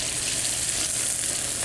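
Onions fry in hot oil for Uzbek plov, giving a loud, steady, close sizzle that continues without a break.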